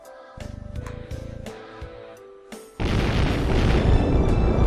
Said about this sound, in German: Es wird gleich explodieren.